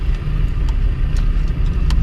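A small rental car's engine hums steadily while driving in Abidjan, a close, loud low drone with road rumble and a few faint clicks, no speech.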